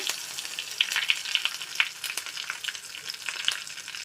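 Mustard seeds and dried red chillies fry in hot oil in a pan, a crackly sizzle with scattered sharp pops from the seeds, fairly close and with no talking.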